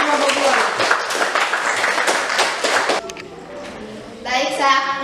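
Classroom students clapping together in a dense burst of applause, then a brief pause with murmuring and a second short round of claps near the end, voices mixed in.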